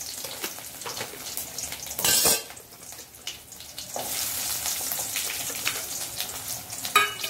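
Shallots frying in a pan for mango pachadi give a soft steady sizzle with light stirring scrapes, a louder clatter near the start and another near the end, quiet and close, no speech.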